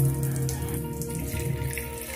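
Water gurgles steadily down a bathroom drain fitted with a V-trap, a close, continuous trickling wash with a faint underlying hum and no speech.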